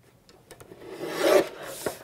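An A5 sheet of card is trimmed, a short rasping slide of a cutter blade through the card swelling then stopping, with a few light clicks before and after, close and quiet.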